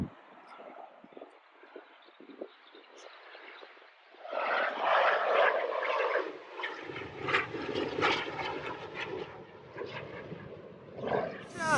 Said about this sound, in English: And look at the little flyby performance we get.